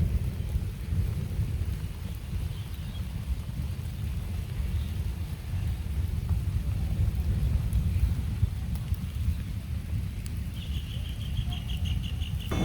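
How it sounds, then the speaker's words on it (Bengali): Distant thunder rumbling low and continuously through a village storm in Bangladesh, with steady rain and gusts of wind over the microphone, and faint high chirps near the end. "এই যে ডাকা ডাকি বিদ্যুৎ চমকা সব কিছু শুরু হয়ে গেছে"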